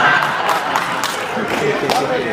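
An audience at a live event applauds and cheers in a continuous, loud crowd wash, with a few voices and whoops mixed into the steady clapping.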